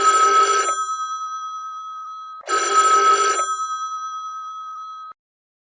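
An old-style telephone bell rings alone in a quiet room, two long bursts separated by a pause, the second trailing off into a sustained tone before cutting out.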